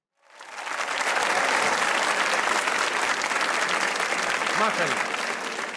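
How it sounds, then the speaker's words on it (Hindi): Studio audience at a comedy talk show breaking into loud, sustained clapping that swells quickly and holds steady, with a voice speaking briefly over it near the end. "और अंकल आप भी ताली बजा रहे थे"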